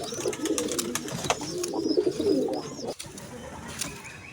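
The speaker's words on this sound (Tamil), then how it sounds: "புறாவுக்கு வந்து இற கொடுத்துட்டு இருக்கும்போது வேற ஒரு ஆண் புறா வந்து அதை தட்டிட்டு இருக்குது" A male pigeon coos nearby in a series of soft, throaty, rolling calls, loud and close, with a brief pause partway through.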